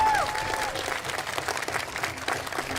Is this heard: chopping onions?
no